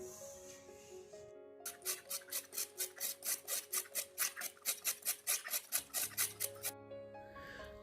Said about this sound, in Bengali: এখন এটাকে আমি গ্রেটার দিয়ে গ্রেট করব